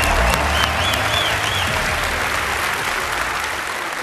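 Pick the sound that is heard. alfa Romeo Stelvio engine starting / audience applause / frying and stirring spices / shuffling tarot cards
audience applause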